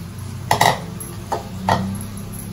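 Bottle gourd pieces with turmeric stirred in a cooking pot, a few distinct scraping clinks of a utensil against the pot, close and moderately loud, with no speech.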